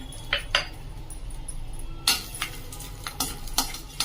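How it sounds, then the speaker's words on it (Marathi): Peanuts frying in a little oil for spicy wheat vermicelli, with sharp clinks of a spatula against the pan and a soft sizzle that grows louder in the second half. "त्यामध्ये थोडंसं तेल टाकून घेऊया आणि तळून घेऊया"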